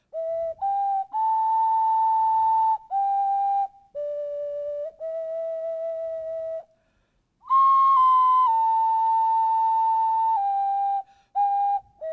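An ocarina played solo in a church, a slow melodic line of clear sustained whistle-like notes with short breaths between phrases, close and steady, with no talking.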